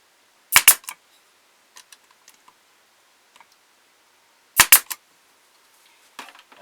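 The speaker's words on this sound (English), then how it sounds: "I glue it, and then I'm going to put a staple in here." A staple gun fires into wooden ventriloquist dummy parts: two sharp, loud snapping shots a few seconds apart, each with a short rattle, then lighter taps and clicks.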